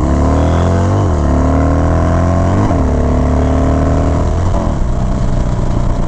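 Harley-Davidson motorcycle with a Thunder Max tuner, riding with a Krator windshield: a loud, steady engine drone with rising pitch sweeps as it accelerates through gears, heard up close under wind.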